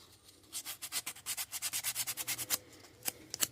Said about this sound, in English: we'll just take this 100 grit and we'll just go around the edges of him